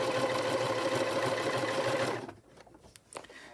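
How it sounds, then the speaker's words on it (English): A sewing machine stitching tote bag fabric runs in a steady, loud, close whir for about two seconds, then stops, followed by a few quiet handling clicks. "I'm going to sew all the way down now on this side."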